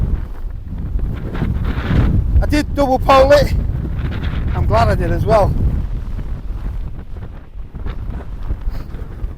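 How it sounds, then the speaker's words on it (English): Wind buffets the microphone in a continuous low rumble while someone talks over it close up. "You can see how windy it is."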